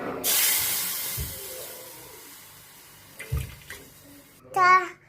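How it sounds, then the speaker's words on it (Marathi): Milk pours into a pan of ghee-coated vermicelli for kheer, a steady hissing, splashing stream that runs for several seconds, broken by a few low bumps and a brief voice near the end. "आता टाकूया दूध."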